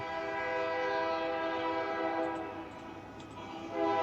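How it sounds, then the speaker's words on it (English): A freight locomotive horn, identified as a GE AC44, sounds as a sustained harmonic blast holding steady for about four seconds, loud and fairly near, with a slight swell toward the end. "I could tell from that horn. Sounds like an AC-44."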